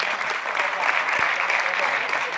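Audience applause at a live charity concert, a steady wash of clapping from many hands, sustained and even throughout with no break.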